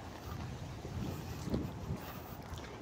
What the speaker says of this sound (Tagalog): Ang hangin-hangin pa. Ang lakas-lakas.